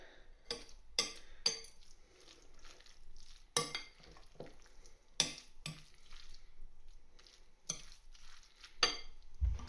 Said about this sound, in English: just going to add in some grated cheddar cheese, probably about 150 grams or so there, and just mix that in.